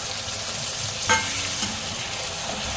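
Onion paste sizzles as it is sautéed in ghee for chole, a steady close frying hiss with a single sharp clink of the stirring spoon partway through, and no voices.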